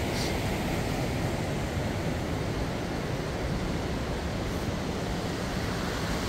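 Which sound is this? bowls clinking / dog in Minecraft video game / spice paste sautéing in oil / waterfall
waterfall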